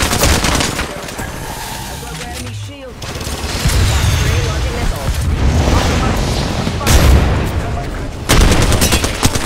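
Gunfire in a fast online shooter game comes as rapid bursts and fusillades of shots with booms between them, loud and near, while players talk over it.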